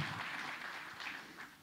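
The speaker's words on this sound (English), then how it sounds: "Let us once again applaud this gesture warmly." Audience applause at a ceremony forms a soft, continuous patter of clapping that sounds distant and faint throughout.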